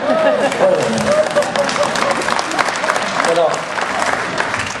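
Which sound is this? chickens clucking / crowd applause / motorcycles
crowd applause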